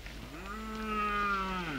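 A single cow from a Dinka cattle herd lets out one long, steady moo that swells and then fades, heard fairly close against a quiet outdoor background.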